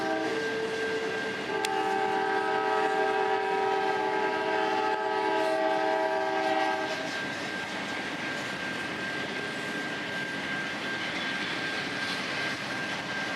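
A freight train's horn blares in long sustained chords at a rail diamond crossing, then cuts off, leaving a steady rumble of rolling train noise.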